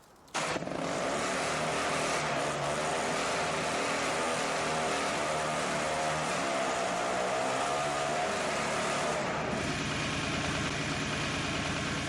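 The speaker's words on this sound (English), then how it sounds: "Check out the startup on this tractor" A tractor engine in Farming Simulator 19 cranks and catches within the first half second, then settles into a loud, steady low rumble with a droning idle that holds for over ten seconds before the tone shifts slightly near the end.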